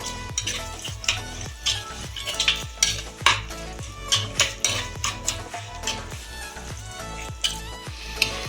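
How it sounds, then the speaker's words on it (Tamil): A quail gravy masala fries in a pan while a utensil stirs and scrapes it in a steady, repeated rhythm over a continuous sizzle. The sound is close and clear, with no voices. "ஒரு 2 தடவை கலக்கி விட்டேன், திருப்பி விட்டேன்"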